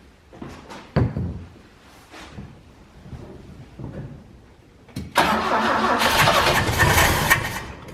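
A 1968 BMW engine, sitting unused for over ten years, cranks and catches around the midpoint, then runs loud and rough and steady close by after a few sharp clunks and quieter knocks beforehand.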